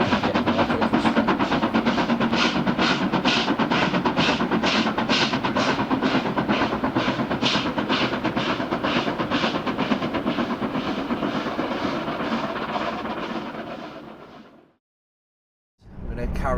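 A steam train rolls past close by, a loud, steady rumble with rhythmic clatter of wheels over rail joints lasting many seconds before it suddenly cuts out, then resumes briefly.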